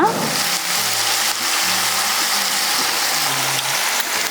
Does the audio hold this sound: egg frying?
yes